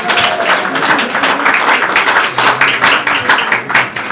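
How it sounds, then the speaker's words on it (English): An audience at a Diwali community gathering gives a lively, sustained round of applause, dense and fairly loud, with many hands clapping at once. "Let's give Radhika a big round of applause."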